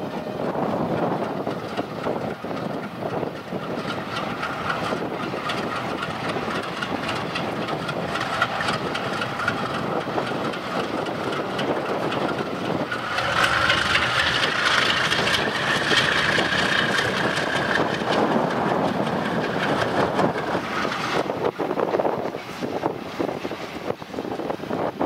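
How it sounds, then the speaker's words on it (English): The TranzAlpine Express pulls away from Arthur's Pass, a steady low engine rumble mixed with wind buffeting the microphone, continuous and moderately distant with a slight swell midway. "we catch up with the train as it departs Arthur's Pass"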